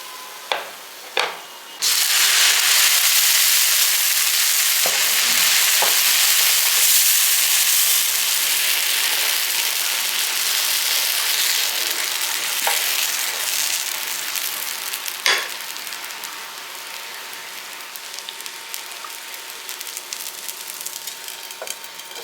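Adai dosa frying on a hot pan gives a broad, steady sizzling hiss that lasts throughout, with a few brief clicks at the start and a slow fade toward the end.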